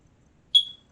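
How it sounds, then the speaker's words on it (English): A household smoke detector gives a single short, high-pitched electronic beep that rings briefly and fades, alone in an otherwise quiet room. "My smoke detector doesn't normally do that."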